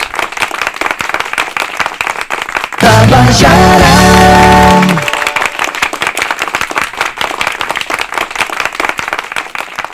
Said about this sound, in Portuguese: Aplausos gerais.